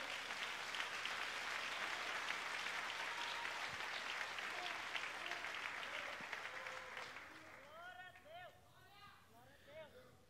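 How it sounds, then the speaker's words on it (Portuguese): A church congregation claps in loud, sustained applause that gradually thins out, as a voice begins speaking over the fading clapping. "Você pode aplaudir ao Senhor por essa palavra?"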